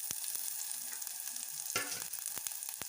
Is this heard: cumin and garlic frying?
yes